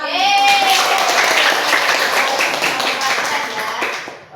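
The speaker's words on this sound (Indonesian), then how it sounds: "tepuk tangan" Applause from a classroom of primary-school pupils during a science lesson, a dense burst of hand clapping that fills the moment and fades near the end, with cheering voices mixed in.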